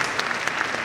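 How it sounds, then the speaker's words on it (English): Audience applause at a university convocation ceremony, a short dense patter of many hands clapping, steady and fairly close, with no voices over it. "Let's clap for our incoming"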